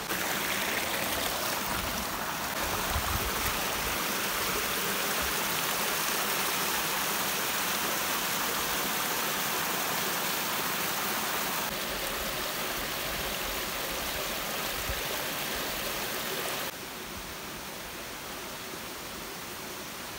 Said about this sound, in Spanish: Esta es una de las pozas que se forma dentro de la misma cascada y el río que baja toda la barranca